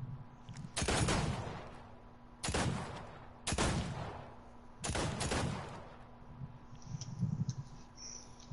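Four separate bursts of gunfire in a video game as bottles are shot, each a loud cluster of rapid shots lasting about a second, separated by quiet pauses.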